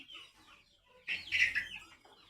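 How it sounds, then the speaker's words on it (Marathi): A chicken on a farm gives a few short, close clucks, a brief quiet call and then a louder burst of clucking. "हे कोंबड्या फोडत्यात हो"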